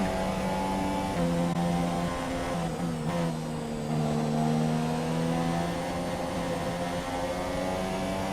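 Renault-engined Formula 1 car in the F1 2017 racing game at the Australian circuit, a steady high-pitched engine whine with shifting harmonics, held near and loud throughout with no talk.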